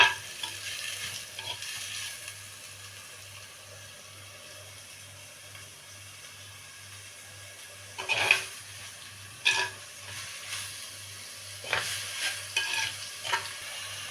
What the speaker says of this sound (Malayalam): അപ്പോൾ നന്നായിട്ട് നമുക്കത് ഇളക്കി കൊടുത്തിട്ട് ഉള്ളി ഒന്ന് വാടി വരട്ടെ